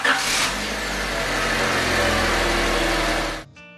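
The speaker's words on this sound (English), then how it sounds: "and start the car." A 1990s car engine runs just after an oil change with a steady, close, mid-pitched hum that holds evenly for about three seconds, then cuts off abruptly.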